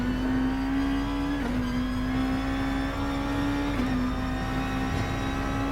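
A Nissan GT-R '16 Gr.2 race car engine in Gran Turismo on the Dragon Trail Seaside circuit holds a steady, loud drone with brief throttle dips and recoveries, sounding continuous and close with no talk.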